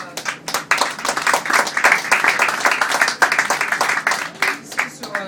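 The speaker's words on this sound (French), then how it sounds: "On peut applaudir" Applause from a modest crowd at a political brunch of young professionals, the individual claps distinct and uneven, swelling into a lively patter before thinning out near the end.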